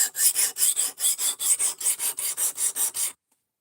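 A knife blade is ground on a 220-grit sharpening stone to reset its bevel: about thirteen steady, evenly spaced rasping strokes, close and loud, then an abrupt stop into silence.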